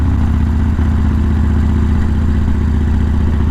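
A Harley-Davidson Sportster motorcycle rumbles steadily while riding, a loud, low, pulsing engine drone filling the whole stretch with no talk over it.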